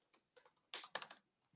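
Rapid bursts of keystrokes on a computer keyboard, close and fairly quiet, in uneven clusters with short pauses between them and no voices.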